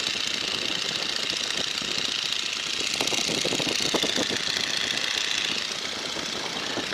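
A Boeing N2S-3 Stearman biplane engine held at 1,750 RPM cruise, a dense continuous drone with rapid knocking pulses and airflow roar, loud and unbroken in the cockpit.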